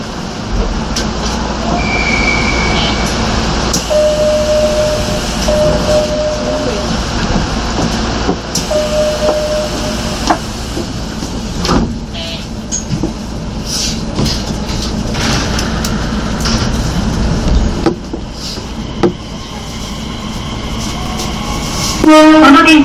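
A Nishitetsu express train bound for Ogori runs at speed, with a steady rumble of wheels and motor heard from aboard, brief horn blasts, and a squeal near the end.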